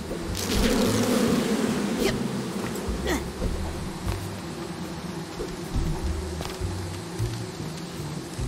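Swarming bees buzz in the video game Psychonauts 2, a dense continuous drone with faint pulsing, loud and steady throughout without talk.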